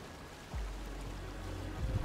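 A hidden waterfall in the video game Tunic, a steady low rushing roar of falling water that swells after a soft start and holds throughout, close and alone with no talk.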